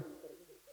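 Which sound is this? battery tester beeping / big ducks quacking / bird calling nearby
bird calling nearby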